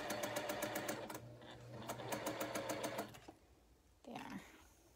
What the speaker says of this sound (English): I was concentrating more on what I was sewing than on where the pin was.